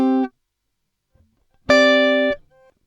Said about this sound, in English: So here's the sound of just the glitch delay without the dynamic plate.